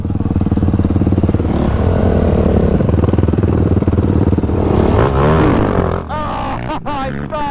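Yamaha YFZ450R ATV engine revving hard and loud up close, then dropping and stalling to near silence as the revs collapse, with a few clattering bumps at the end.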